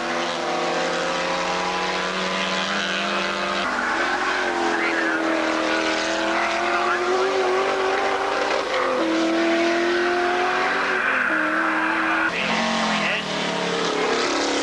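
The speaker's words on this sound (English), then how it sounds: "in the very throaty sounding Ford Escort" A throaty Ford Escort race car passes during a saloon car heat, its engine loud and sustained with a rising and falling pitch, while a commentator talks over it throughout.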